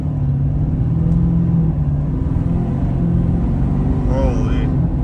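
A deleted 2020 Ford Powerstroke diesel truck accelerates at part throttle, a loud steady low rumble heard from inside the cab, with a voice briefly cutting in near the end.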